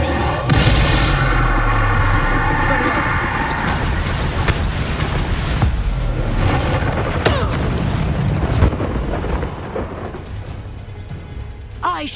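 Blasting spell explosions in the wizarding game Hogwarts Legacy, several sharp booming bursts spread across the clip over a layer of combat effects and a faint game score, with character voices briefly audible.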